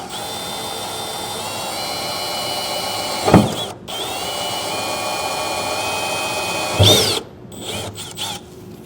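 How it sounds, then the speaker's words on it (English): A power drill with a small bit bores pilot holes for an underbed gooseneck trailer hitch in a 2023 Ford pickup bed. Two sustained whining runs are each broken by a brief stop and restart, with no talking. "But we'll start with a pilot hole"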